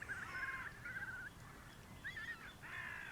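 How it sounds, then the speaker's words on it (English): A ruddy shelduck calls in Tibet with a series of nasal, honking cries in short bursts, faint and somewhat distant over low background noise. "This is the ruddy shelduck."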